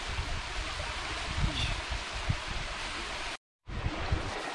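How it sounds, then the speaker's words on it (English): Hemmed-in Hollow Falls, a 208-foot waterfall, gives a continuous broad hiss of falling water with low rumbling gusts, broken once by a brief gap. "Hemmed-in Hollow Falls, the tallest waterfall between the Rockies and the Smokies."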